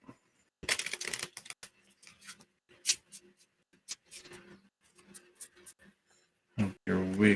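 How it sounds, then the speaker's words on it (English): Tarot cards are shuffled in irregular bursts of crisp riffling and flicking, close and fairly quiet, with a person speaking briefly at the end. "I guess they all need a little shuffle"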